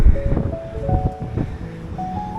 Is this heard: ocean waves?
yes